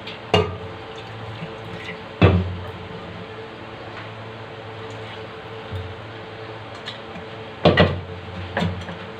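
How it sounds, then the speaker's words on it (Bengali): A mixer grinder jar is rinsed out with hot water in a home kitchen while a bottle gourd and chana dal dish is cooked. A few sharp knocks and splashes stand out over a quiet, steady trickle. "মিক্সি জার ধুয়েও গরম জলই অ্যাড করে নিচ্ছি"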